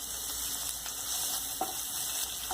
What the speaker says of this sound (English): Now I am adding the remaining sliced onions to the heated oil.